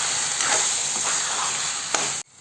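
Chicken and spinach (palak) being stirred in a hot pan, a continuous loud sizzle with scraping strokes of the spoon and a sharp clink near the end before it cuts off.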